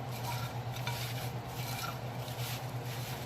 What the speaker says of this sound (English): as you start mixing it up and pressing on it